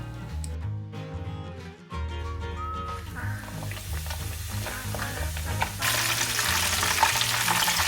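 Breaded pork cutlet (donkatsu) dropped into hot oil, a bright crackling sizzle that swells and intensifies toward the end, with some clattering and low hum early on.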